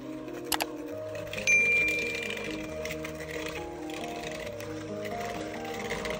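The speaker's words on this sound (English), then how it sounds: "I'm using a hand mixer to do this to make things faster" Hand mixer creaming butter with packed brown sugar, a steady mechanical whir with layered humming tones running throughout, plus a couple of brief clicks near the start and a short swell in loudness.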